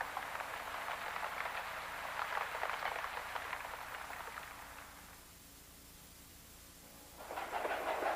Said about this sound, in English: But look, it's raining hard.